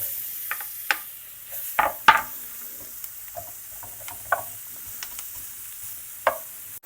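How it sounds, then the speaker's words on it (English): Onion and green chili hit hot butter in a pan, giving a soft sizzle under scattered sharp spoon scrapes and clicks against the pan, close and intermittent. "Now we'll add our onion and green chili"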